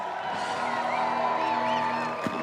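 Crowd at a women's BMX freestyle park World Cup final in Edmonton cheering and whooping, a sustained dense roar with high shrill voices rising over it, close and loud throughout.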